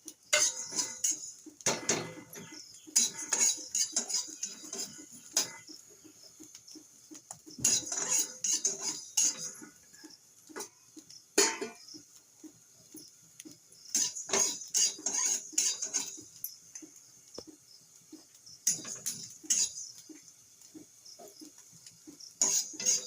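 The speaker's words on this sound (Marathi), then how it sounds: "फुटाणा डाळ भाजून घ्यायची आहे थोडीशी, काढून घ्यायची" Split roasted gram dal is dry-roasted in a pan and stirred, producing bursts of metallic clinks and scraping from the utensil against the pan, separated by short quiet gaps.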